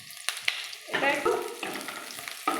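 Onions and green chillies fry in a pan for Kolkata-style egg biryani, with a loud hiss rising after a few sharp utensil clicks, then spattering sizzle and more taps as the mixture is stirred.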